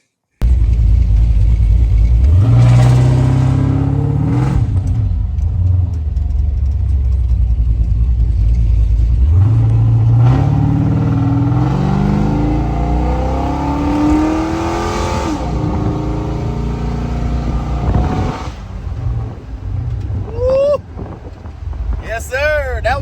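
An LS-swapped car engine revs loudly and close by in several long pulls that rise and fall, with a rumbling idle between them and voices toward the end.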